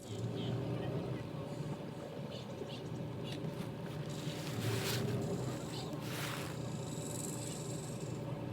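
A small tour boat motor drones on steadily near Tofino, Canada, mixed with wind and water noise, while faint voices come and go in the background.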